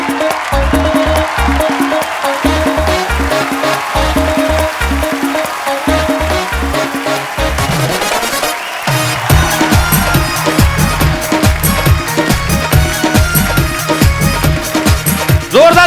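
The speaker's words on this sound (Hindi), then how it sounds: "आप सबकी जोरदार तालियों के बीच बुलाना चाहूंगा गीता और बबीता फोगाट को।" A studio audience on The Kapil Sharma Show applauds to welcome wrestlers Geeta and Babita Phogat, steady clapping running under loud band music with a thumping beat throughout.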